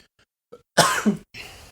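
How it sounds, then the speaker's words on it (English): Several short, harsh coughs close by, a couple of faint ones first, then two loud bursts in quick succession with no talking. "I started coughing from my laughter."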